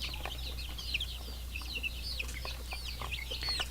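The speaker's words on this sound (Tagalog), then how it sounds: "So lahat yan na mga sisiw na ito ay mga pure na mga basilan." Young Basilan native chicks peep and cheep constantly, overlapping high calls close by, with a steady low hum underneath.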